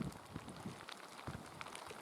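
Wind and rain lash a hut during a heavy storm, a faint, steady wash of patter and gusty rumble with scattered small drops and knocks, no speech.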